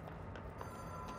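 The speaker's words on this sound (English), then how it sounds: "Phone's ringing." A telephone rings inside the video game Control, a trilling bell repeating in short bursts over a humming, low-level game background.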